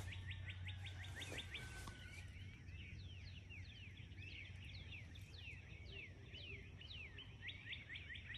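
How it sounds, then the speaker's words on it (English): A sunrise dawn chorus of many birds sings continuously: dense trilling and warbling songs, some near and some distant, over a low steady background hum. "Listen to them. This is morning."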